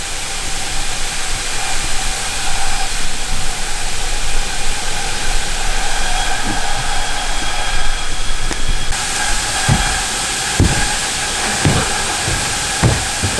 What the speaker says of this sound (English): So we're just gonna let this boil here and watch it really close, make sure it doesn't boil over